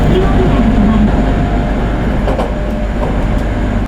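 Local train bound for Nakatsu in Oita, Japan, rumbling loudly and close, with a continuous heavy roar and faint wheel clatter under a station announcement voice.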